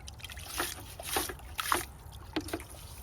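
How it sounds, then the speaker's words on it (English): A garden hose rinsing a deer skull for a European mount, producing intermittent splashing and trickling water bursts nearby in short irregular spurts. "Hopefully I can get some more big junk out with the hose."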